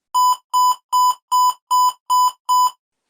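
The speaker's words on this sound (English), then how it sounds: "Is something beeping?" Seven short electronic beeps, each a bright double-pulse tone, repeat at an even pace about every third of a second, clear and close with silence between them.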